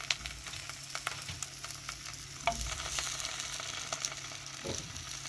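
Puff pastry frying in oil, a continuous bubbling sizzle with scattered crackles and a few soft scrapes of stirring, moderately close and free of speech.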